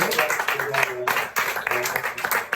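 A church congregation acclaims the Lord with loud, sustained clapping and cheering during a French-language intercession service. The applause fills the room continuously, with voices mixed in.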